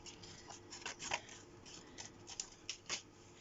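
Scissors trim paper around a Polaroid photo up close and quiet, a series of short crisp snips and rustles in an irregular rhythm with no talking.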